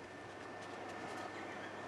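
Subway train passing, a faint, steady rumble and rolling clatter of a metro running through a tunnel, heard at a distance without any voices.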